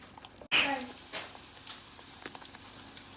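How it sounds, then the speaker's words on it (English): A sudden loud sizzle as salted fish drops into hot oil, then steady crackling and popping of frying continuing close by. "I'm gonna keep on frying them one by one."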